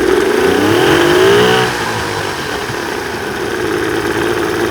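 An old Bass Cat boat engine running on starter fluid revs with a rising, wavering whine, then drops back to a steady, rough idling rumble; no voices.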